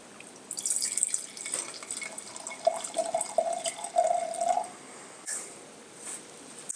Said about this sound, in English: I'm going to pour a little bit for me too.